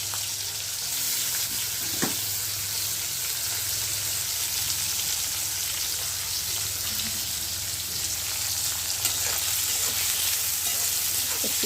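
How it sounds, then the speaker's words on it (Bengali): Small fish frying in oil with garlic, a steady close sizzle with a couple of brief stirring knocks, no talking. "রসুন আর মাছগুলো একটু ভেজে নিচ্ছি"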